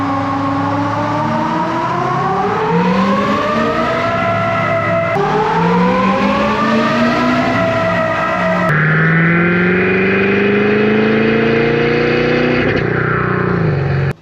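A 6.7 Powerstroke diesel truck with a delete kit roars through repeated power runs on a dyno, the loud engine note climbing steadily through each gear with brief shift breaks, close and sustained.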